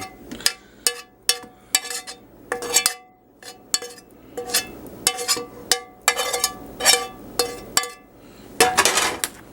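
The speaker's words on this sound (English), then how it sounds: "I just want to use a metal spoon" A metal spoon clinks and scrapes repeatedly against a dish of taco salad meat, a string of sharp, bright, close clatters in an uneven rhythm, with no talking.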